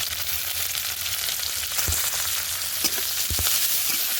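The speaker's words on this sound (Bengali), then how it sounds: "এই মশলাগুলো একটু ভালো করে ভাজা হয়ে গেছে" Whole cumin, dried chillies, chopped onion, garlic and slit green chillies fry in oil with a dense, steady sizzle, close up, punctuated by a few sharp pops and clicks.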